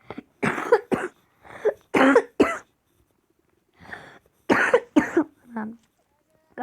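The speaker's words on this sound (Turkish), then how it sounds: "Kuru öksürük de var arkadaşlar." Dry coughing from one person nearby, heard as a string of short, sharp bursts with brief pauses between them, loud and close.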